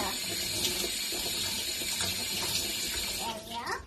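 Tap water runs steadily over lentils being rinsed in a kitchen sink, a loud, close, continuous splashing rush that thins out near the end.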